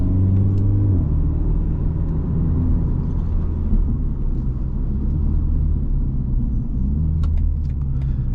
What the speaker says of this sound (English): what a joy it is to drive on the highway